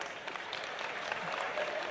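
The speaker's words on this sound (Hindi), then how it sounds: "बिटिया जोरदार ताली बजाओ।" Applause from the crowd at a religious gathering under a pandal: a brief, dense burst of clapping that holds at an even level throughout.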